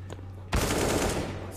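Burst of rapid gunfire in Counter-Strike on the Dust2 map during a professional IEM Katowice 2019 Major match, a loud sustained volley erupting after a quiet start, with a low hum underneath.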